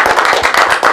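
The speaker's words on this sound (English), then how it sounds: "Round of applause for" Audience applause at a talk event with young people, a burst of dense, rapid hand clapping, loud and close, filling the whole moment without any voices.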